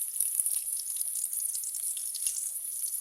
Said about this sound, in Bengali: পেস্টে এখন ভাজা ভাজা হবে